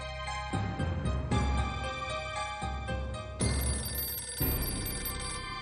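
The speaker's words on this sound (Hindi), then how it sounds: "मैं आभा को फोन कर देता हूँ ताकि वो फिक्र ना करे" A telephone rings in repeated bursts, loud and close, with short gaps between rings and no talking over it.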